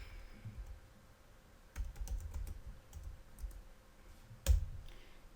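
Keys on a computer keyboard are tapped out in short, quiet bursts, light clicks in small clusters while text is entered in Photoshop, with one louder key strike near the end and gaps of near silence between.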